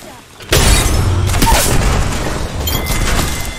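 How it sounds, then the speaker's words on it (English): Gunfire in a first-person shooter game, a loud burst starting abruptly and continuing as dense, boomy, rumbling shots, with faint speech underneath. "They're shooting at me."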